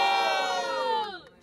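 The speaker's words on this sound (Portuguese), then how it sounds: "Pra confirmar, grita alto e pra um só e levanta a mão pra quem curtiu as rimas de Dobré." A crowd at a student rap battle semi-final in Guarulhos yells in one loud sustained roar of shouting and cheering, then tails off near the end.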